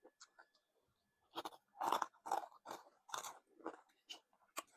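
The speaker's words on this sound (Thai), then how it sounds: "มันกรอบๆนี่ก็กรอบเลย" Crisp, crunchy bites of a snack being chewed close up, several loud crunches in an uneven rhythm with short pauses between them.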